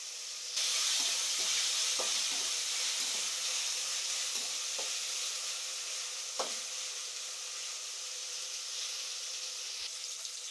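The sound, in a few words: ginger garlic paste and curry leaves frying in oil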